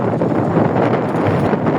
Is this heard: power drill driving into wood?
no